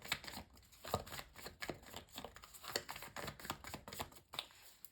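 A deck of tarot cards being shuffled by hand, giving repeated crisp riffling and flicking bursts in an irregular rhythm, close and fairly quiet, with no talking.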